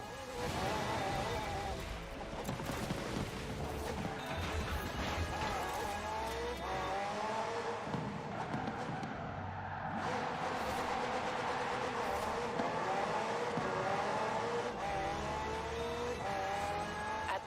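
A McLaren P1 GTR supercar drives in the racing game Forza Horizon 4. Its engine holds a steady drone and rises through shifts, with tire noise and no talk over it.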